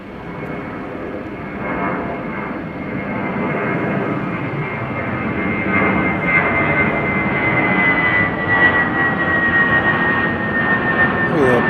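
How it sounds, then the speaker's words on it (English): Volaris flight 5507, an A320 taking off from Chicago O'Hare bound for Monterey: a loud, building jet roar with a rising engine whine, strengthening steadily throughout. "we have another departure. This is Valeris, flight 5507, taking off to Monterey"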